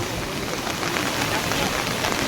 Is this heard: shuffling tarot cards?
no